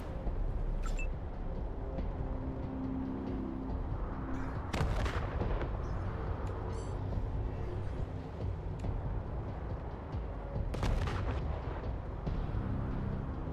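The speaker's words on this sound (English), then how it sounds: "He's gonna shoot the gun." Gunfire in the video game Wasteland 3: a steady, low rumbling barrage of shots and distant blasts runs throughout, with a few sharper, louder cracks standing out, and no voices.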